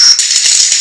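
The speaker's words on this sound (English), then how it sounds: "and this is the sound of fire burning." Fire burning from a white noise app: a dense, steady crackling hiss with small irregular pops, loud and continuous with no voices.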